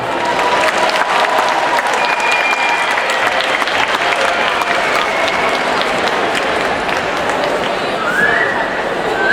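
Loud, dense audience applause fills the whole stretch without letup at a 2015 Union MNF event, honoring Parkano parish choir and Pekka Laukkarinen's backing choir, with faint whistles and cheers mixed into the steady clapping.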